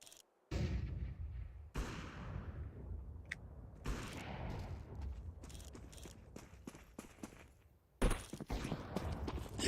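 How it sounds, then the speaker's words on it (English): A flashbang grenade bursts in a video game with a sharp blast, followed by a dense stretch of loud gunfire, impacts and crackling effects, then a second hard burst near the end. "Deploying flashbang."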